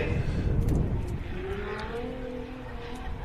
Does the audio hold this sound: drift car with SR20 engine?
yes